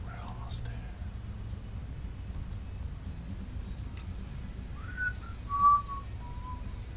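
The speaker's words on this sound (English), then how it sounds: "These whistles, are they in game, and do I notice them? They seem to be slightly echoing down the hall." Faint whistling echoes down a hall in a video game: a few short, soft tones rise out of a low, steady background hum about two-thirds of the way through, with no talking.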